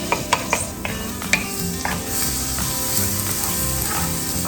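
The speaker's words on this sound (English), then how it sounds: "I'm going to add my garlic, and that is starting to sizzle a little bit" Onions and garlic sizzling in a hot pan, a steady crackling hiss with a few scraping stirs near the start, close and without speech.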